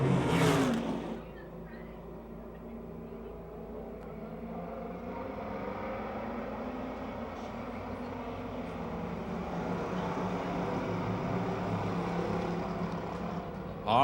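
Amateur stock cars roar around the oval at Pennsylvania Motor Speedway as the leaders take the checkered flag, a continuous distant engine drone swelling gradually, with faint crowd and track ambience.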